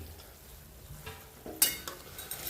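Kurdai and onion are stirred in a frying pan, giving a faint, low sizzle and a few soft scrapes from a spoon near the end; quiet with no speech.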